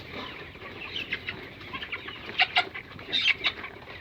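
Chickens cluck inside a poultry farm: a close chorus of short clucks and quick calls comes in uneven bursts over a soft background murmur, with no talking.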